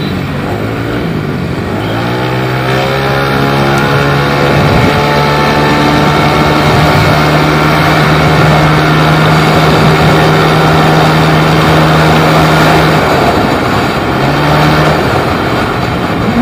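Yamaha Lexi 155cc scooter engine droning loudly during a test ride, its pitch climbing and holding steady as it accelerates, close and continuous, then easing briefly near the end.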